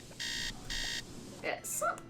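An alarm clock in the Nancy Drew: Treasure in the Royal Tower PC game beeps in two sustained electronic bursts, followed by brief chirpy game tones, with a voice murmuring underneath.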